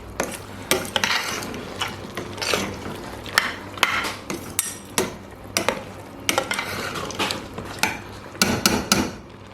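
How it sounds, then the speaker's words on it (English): A utensil stirs afang soup, scraping and knocking around the pot in repeated rhythmic strokes, close and fairly loud, with no voices. "I'm going to stir it up."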